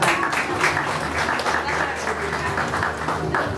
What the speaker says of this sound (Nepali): उहाँको लागि कति जोरदार ताली छ